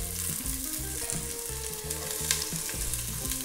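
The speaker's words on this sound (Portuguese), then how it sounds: "Já temos o alho a puxar bem" Garlic and leek sizzling in oil for a Portuguese refogado, a bright steady crackle running throughout with a low rhythmic hum underneath.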